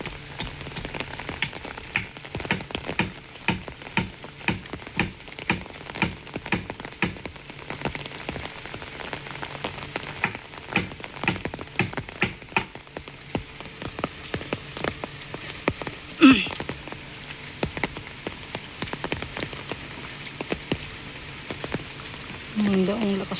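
Heavy rain pounds steadily on a surface, a dense continuous patter with some louder drops, while a person speaks faintly underneath at times.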